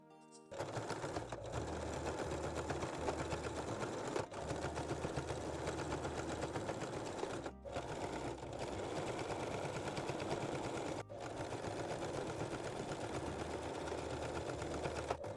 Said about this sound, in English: Then baste and sew your closure.